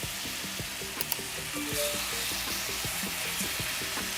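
Food sears in a hot pan with a constant bright sizzle, while faint background music plays under it and occasional small clicks sound near the middle.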